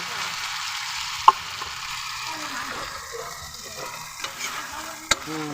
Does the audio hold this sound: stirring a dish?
yes